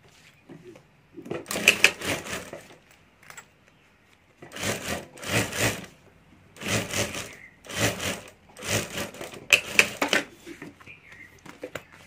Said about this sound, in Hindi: और अभी यहाँ ऊपर हमें सिलाई कर देनी है